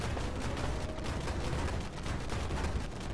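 The Ramka-99 fires its 30mm autocannon in Armored Warfare, a steady, dense stream of rapid shots. The loud, continuous rattle runs without pause across the whole short burst.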